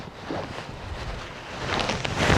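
Wind gusts across an open campsite at Caprock Canyons State Park, a steady broadband rush against the microphone that swells louder toward the end, with no voices.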